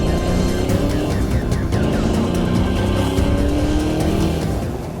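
A 1993 Ford Mustang Cobra R race car drives hard, its engine roaring loud and close through gear changes and repeated surges of acceleration, with no voices over the mechanical noise.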